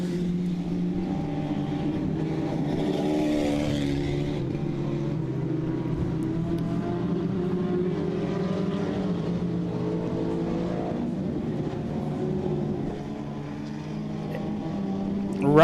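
Dirt track race cars circling the Southern Ontario Motor Speedway, a sustained loud roar of several engines blending together and droning steadily throughout, with no break.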